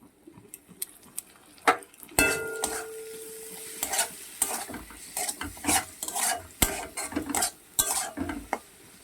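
Lote fish (Bombay duck) frying with chilli powder, spices and ginger-garlic paste, a steady sizzle broken by repeated scrapes and clinks of a spatula stirring against the pan, close and fairly loud with no voices.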